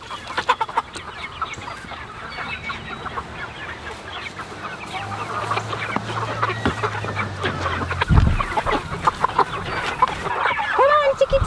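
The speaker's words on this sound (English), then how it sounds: "let's move our meat chickens out" A flock of meat chickens clucks and squawks nearby, busy and overlapping, with a low hum and some scraping and handling noises mixed in.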